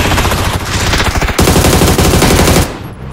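Rapid automatic gunfire in the video game PUBG, a dense, loud burst of shots that pauses briefly and then resumes before cutting off, with no voices.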